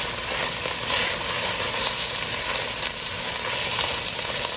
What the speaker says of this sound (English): These mushrooms are cooking up real nice.